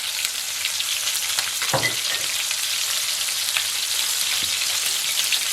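Chicken frying in butter in a cast iron pan, a loud, continuous crackling sizzle with a few sharper pops, close up and with no talk.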